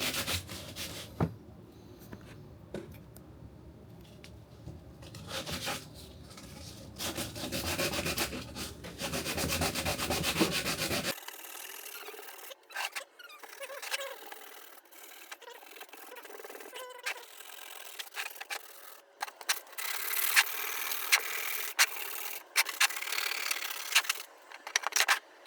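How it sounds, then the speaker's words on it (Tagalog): Hand sanding with 80-grit sandpaper gives a close, rough rubbing scrape in steady back-and-forth strokes, heavier at first and then thinner and more broken. "So, lihain natin mabilisan lang."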